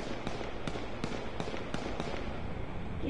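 Gunfire in the video game H1Z1 comes as a run of sharp, fairly distant cracks spaced about a third of a second apart over a steady background hum, with no talking.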